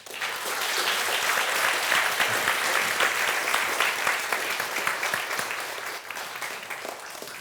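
A conference audience applauds to welcome a doctor taking the stage, a dense, sustained clapping that fills the room and slowly tapers toward the end.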